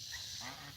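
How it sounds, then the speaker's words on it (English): Geese honk repeatedly over a steady background hiss, with several overlapping nasal calls at moderate distance. "I don't want to chase the geese too far"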